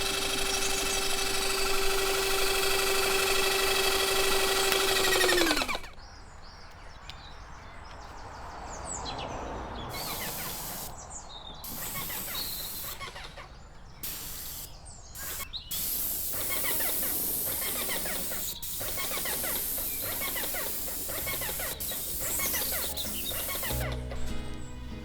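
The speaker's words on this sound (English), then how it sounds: "So I'm going to be using an airless sprayer." A budget airless paint sprayer hisses steadily for about five seconds while priming wood, then cuts off, leaving quieter brushing and handling noises with sharp clicks and knocks.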